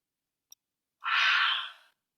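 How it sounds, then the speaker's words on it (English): A single long, breathy exhalation, close and fairly loud, fading out after about a second, as people yawn wide during a guided stretching routine; a brief click comes just before. "Open that jaw as wide as you can and yawn"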